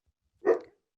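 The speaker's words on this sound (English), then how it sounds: "Sorry about my dogs." One short, sharp bark from a nearby pet dog in a home, a single burst in otherwise quiet surroundings.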